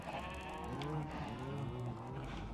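Sheep bleating in the video game Minecraft, several wavering bleats overlapping one another in a steady farm-pen chorus, fairly close and continuous.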